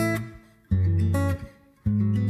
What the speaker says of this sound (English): So if we open up the reverb, it sounds like this.